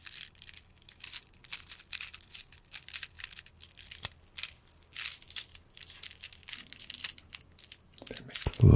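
Close, steady crinkling and crunchy rustling as plastic faux-glass decorative grapes are squeezed and handled, a continuous textured flurry that grows louder toward the end with a sharper clatter.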